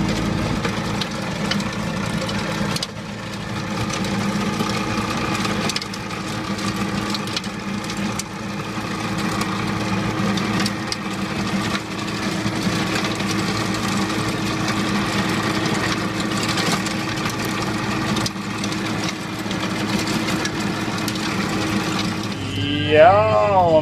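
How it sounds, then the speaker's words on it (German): A Fendt Vario tractor engine idles on a flower field with a low, steady rumble throughout, joined by a brief sharper warbling sound near the end. "da ist der Vario. Immer ein ganz praktischer Traktor"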